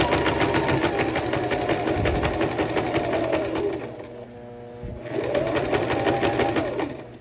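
Sewing machine stitching a seam on a shirt, a fast steady needle chatter running close and loud, briefly slowing to a halt with a lower hum in the middle before resuming at full speed.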